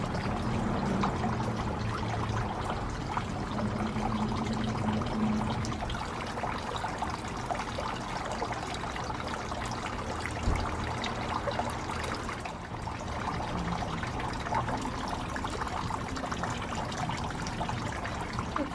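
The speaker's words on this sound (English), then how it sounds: "First time pouring in this Monstera mold." Liquid pours steadily into a Monstera leaf mold for a long stretch, a continuous close trickling wash with no talking.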